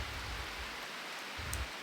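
Steady rain falls all day, a constant broadband hiss of drops on surfaces, with brief low thumps and no voices.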